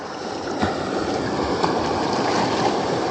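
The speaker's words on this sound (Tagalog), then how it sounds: "Okay, malaking alon." Broad rushing water noise fills the clip as a fishing boat moves through big waves, with a couple of dull thumps of water striking the hull.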